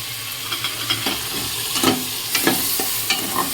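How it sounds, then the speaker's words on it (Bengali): Onion, tomato and spice masala sizzles and fries in a pan while being stirred, with steady crackling and intermittent scraping strokes, close and fairly loud, no talking. "একটু ভালো করে কষবো যতক্ষণ না তেল ছাড়ছে ততক্ষণ ভালো করে কষবো"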